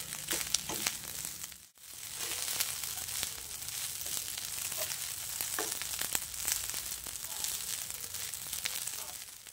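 Cooked rice sautéed in a hot pan gives a continuous close sizzle and crackle, with scraping and stirring clatter throughout and a brief pause early on.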